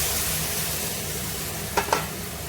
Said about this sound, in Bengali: আমি এতে একটু জল দিয়ে দিচ্ছি, দিয়ে এই মশলাটা এর মধ্যে কষাতে দেবো।